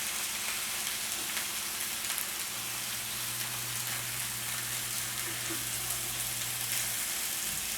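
Salmon fillet frying flesh side down in a pan, giving a steady broadband sizzle that runs evenly throughout, with a low hum entering midway and no talking.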